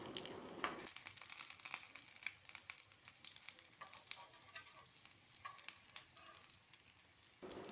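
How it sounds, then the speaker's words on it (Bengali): Pieces of gram flour batter coated with egg frying in a pan of hot oil, giving a steady low sizzle with light scraping and stirring clicks as they are turned, fairly faint throughout. "একটু লালচে করে ভেজে নেব"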